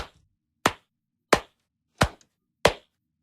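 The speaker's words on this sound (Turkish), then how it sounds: "Yavaş alkış sesine bir örnek alalım" A single person's slow, calm applause, five sharp, isolated handclaps spaced roughly two-thirds of a second apart, each ringing briefly into silence.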